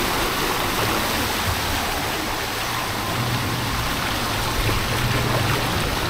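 Steady, loud rush of floodwater at high tide after a typhoon fills the whole clip, a continuous broadband roar with no voices.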